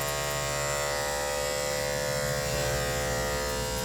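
Electric clippers shaving the muzzle of a matted dog give a steady, close, loud buzzing drone that runs without a break and has no voices over it.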